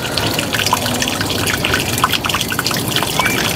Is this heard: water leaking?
yes